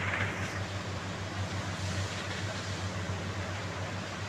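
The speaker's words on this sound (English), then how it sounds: "I think the train is here" A low, steady rumble of a subway train rolling into a station nearby, with rhythmic wheel thumps under broad hissing noise, and no voices.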